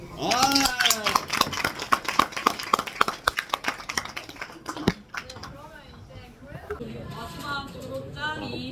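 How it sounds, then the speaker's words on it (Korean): A group of people claps in a quick, uneven burst of applause, loud and close, which fades after a few seconds while voices talk and cheer over and after it. "자, 박수!"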